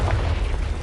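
A Confringo spell blast in a Harry Potter video game lands as a brief, loud, booming explosion with a heavy low rumble, heard alone.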